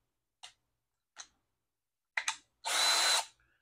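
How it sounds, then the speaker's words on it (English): A power drill drives a screw into a bracket for a Ford Maverick truck bed divider: a few short clicks, then one loud whirring burst, all close by. "And we're going to drill in the screw."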